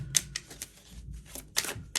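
Tarot cards being shuffled by hand, heard as quick, close, crisp riffling clicks and soft slaps in uneven bursts, fairly faint with no talking.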